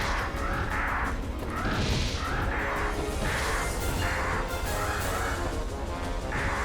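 Crow-like cawing cries from bats in a SEGA PlayStation 2 video game, repeating in a steady series of short calls over continuous game background noise.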